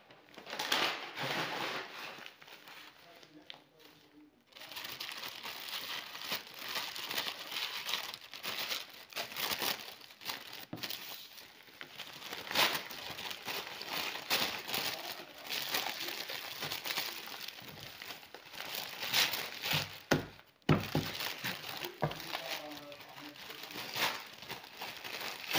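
Crinkling paper wrapped around a Monstera Thai Constellation plant during unboxing, a close, continuous rustle and crackle with brief pauses, heard alone without talk.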